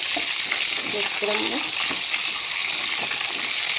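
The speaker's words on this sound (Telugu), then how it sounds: "ఇదంతా అడుగంటకుండా ఇలా తిప్పుతూ ఉండాలి." Bitter gourd slices fry in a pan while being stirred, a continuous sizzle with scraping and stirring noises; a voice speaks briefly under the frying.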